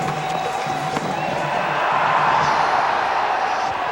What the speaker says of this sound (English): Peals from the crowd, not from the players